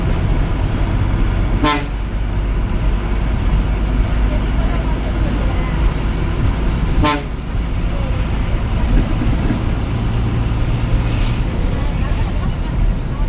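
A Golden Transport bus runs the Thiruttani to Chennai route, its engine and road noise rumbling loudly throughout, with two sharp horn toots and a voice talking over it.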